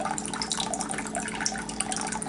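Water pours steadily into a container, a continuous splashing, gurgling fill that stays close and even throughout, with no voices.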